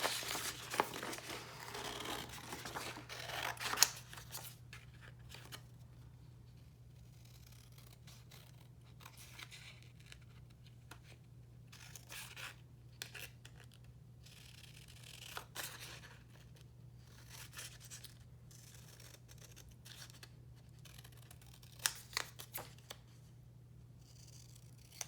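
Scissors snip out a small paper tag at a quiet craft table, giving faint, sparse crisp cuts and light paper rustles, busiest in the first few seconds and then intermittent.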